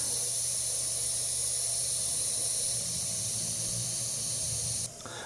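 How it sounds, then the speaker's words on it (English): Air hisses steadily out of two large tire valves at once while airing down, a close, continuous rushing hiss that holds for about five seconds before dropping off. "I just turn that valve and the pressure goes down"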